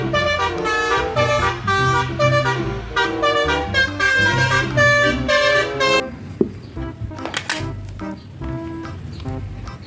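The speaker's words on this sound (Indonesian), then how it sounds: "bis telolet" An Indonesian 'telolet' bus horn plays a loud, close, melodic run of musical horn tones in quick repeated phrases for several seconds, followed by a shorter, rougher burst of honking.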